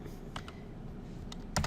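Someone types on a computer keyboard, a few scattered light keystrokes over steady background hum, ending in a short louder cluster of clicks.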